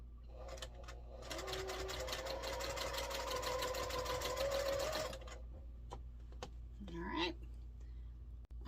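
A home sewing machine chain pieces quilt block fabric along diagonal seams, whirring loudly and steadily for about four seconds before stopping, followed by quiet handling clicks and a brief squeak.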